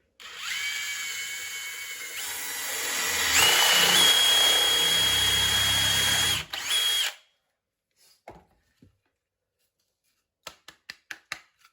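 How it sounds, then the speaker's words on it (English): A power drill countersinks screw holes in a wooden bathroom toilet shelf, whirring loudly and steadily for about seven seconds and rising in pitch midway, then cutting off to near silence broken by a few faint clicks and taps. "It just countersinks those down where the screws can go inside there and it doesn't split your wood."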